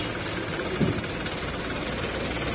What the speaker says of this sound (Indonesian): Ini kita teman-teman lagi mencoba mematikan mesin daripada unit kanter ini.